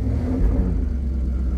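A 1991 California Mercedes 500 SL with a V8 engine revs close by, a steady low rumbling drone with a slight swell, heard alone.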